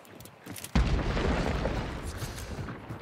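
A barrel blows up in Hunt: Showdown with a sudden loud boom, and its rumbling debris and echo trail off over several seconds.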